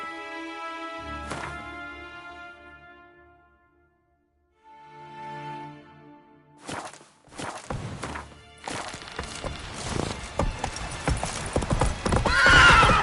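Roach, a horse in The Witcher 3 video game, whinnies and snorts near the start, then hooves clip-clop at a walk and break into busier, louder hoofbeats with jingling tack toward the end, no talking heard.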